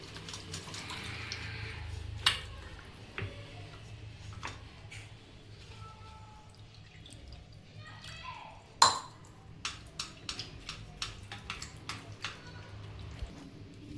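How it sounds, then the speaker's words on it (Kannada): Tap water runs steadily into a sink while something is rinsed clean of vinegar, with scattered clinks and drips of dishes near the end. "ಸ್ವಲ್ಪ ನೀರು ಹಾಕಿ ಇದನ್ನು ತೊಳ್ಕೊಂಬಿಡೋಣ ಚೆನ್ನಾಗಿ"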